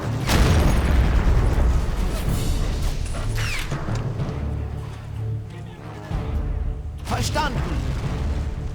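Mortars fire on enemy cannons in the WWII strategy game Men of War: Assault Squad: deep booming impacts and rumbling bursts fill the scene, loudest at the start and again near the end, while someone talks over the battle.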